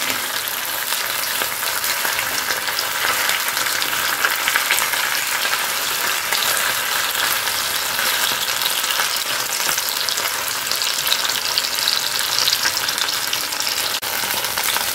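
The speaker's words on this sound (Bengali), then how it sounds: "আঁচটা কিন্তু হাইতেই আছে। একটু সটে করবো এখন চিকেনটা।" Chicken sautéed over high heat sizzles loudly and continuously, with occasional stirring scrapes throughout and no voices.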